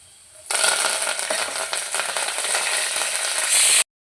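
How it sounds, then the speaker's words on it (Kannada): Curry leaves drop into hot oil for a drumstick sambar tempering with dried red chillies, bursting into a loud, steady sizzle that holds for a few seconds and then cuts off abruptly. "ಇದಕ್ಕೆ ಇವಾಗ ಕರಿಬೇವು ಹಾಕ್ಕೊಳ್ತಿದ್ದೀನಿ"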